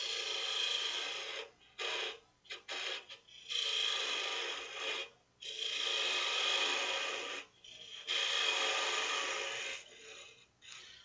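A chisel makes front cuts to hollow out a wooden turned ornament. It gives repeated bursts of scraping and rasping with short gaps between the strokes, close up and fairly quiet, with no talk.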